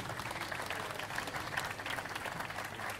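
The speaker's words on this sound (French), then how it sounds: "je vais vous demander de l'applaudir" An audience at a photography fair stand applauds, a dense, continuous burst of many hands clapping at moderate distance, steady for several seconds.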